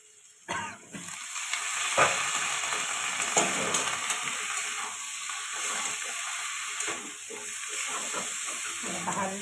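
Eggplant fries with spices in a pan for a fish, potato and eggplant curry, giving a close, continuous sizzle broken by occasional sharp clatters of stirring, with no one speaking.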